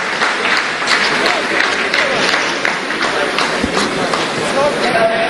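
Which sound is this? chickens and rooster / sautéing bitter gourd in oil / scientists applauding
scientists applauding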